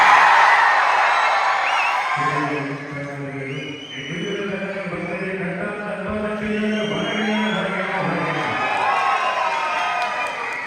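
Festival crowd at a Chithirai celebration in Qatar cheering and shouting excitedly, with sustained sung or chanted tones rising over the roar for several seconds, loud and close, blending into lively crowd noise.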